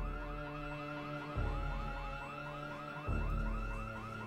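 An alarm blares in the zombie survival game Project Zomboid, a loud repeating electronic whooping wail cycling steadily with a low pulsing thump every couple of seconds.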